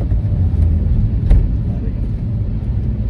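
A car engine drones with a deep, steady rumble close by as the car tries to overtake on a narrow, winding ghat road between Pune and Mahabaleshwar, with faint whooshing over the low hum.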